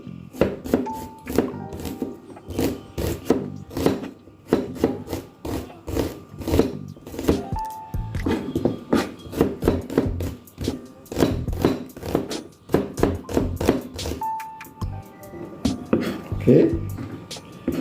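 Knife chopping onion on a cutting board in a home kitchen, a run of sharp, close thunks in quick irregular bursts with short pauses, steady and loud, while a person talks throughout.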